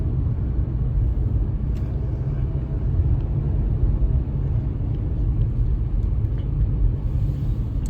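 A car drives around the block, heard from inside as a steady low road rumble and engine hum throughout, fairly loud and continuous with no voices.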